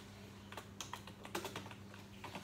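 Typing on a computer keyboard during an Oracle PL/SQL lesson, a quick irregular run of soft key clicks over a low steady hum, faint and without speech.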